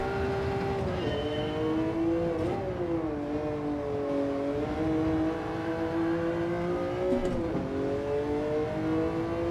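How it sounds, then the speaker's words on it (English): A race car engine in Gran Turismo 7 drones at high revs, its pitch sliding up and dipping at a few gear changes during a time trial, steady and fairly loud with no talking. "Took a long time to change gear then, didn't it? From those flicking high revs."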